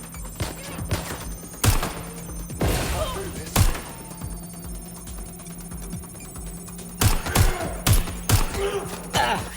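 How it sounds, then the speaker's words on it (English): Gunfire in the video game Watch Dogs Legion: scattered sharp shots and thuds hit at irregular intervals over a steady background hum, with occasional clusters of impacts. "I'm getting shot at here."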